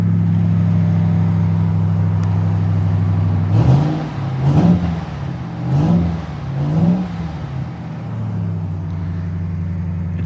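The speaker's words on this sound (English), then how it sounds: "Let me give you guys a quick listen to that engine," A 2022 Ram 1500 TRX pickup idles with a steady low rumble, then gets blipped through four short revs in quick succession before settling back to idle; loud and close, no talking.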